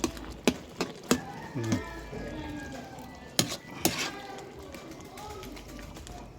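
Utensil scraping and clinking in a pan as a sautéed banana blossom dish with fried pork is stirred, with a few sharp metallic knocks, soft sizzling underneath and a voice speaking briefly.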